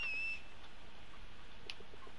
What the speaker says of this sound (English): Super high pitch whistle.